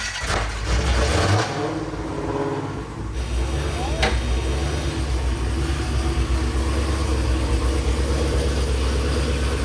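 A manual Dodge Demon's engine idles and runs with a low, steady rumble while the drive shaft turns, a brief revving surge near the start, then a constant mechanical drone; people talk faintly in the background.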